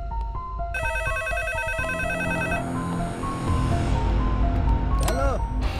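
A telephone rings in a dubbed Hindi film scene, with a steady repeating electronic ring pattern mixed with music and other effects, ending in a short rising electronic sweep.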